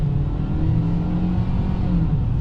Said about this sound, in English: You do hear a lot of the engine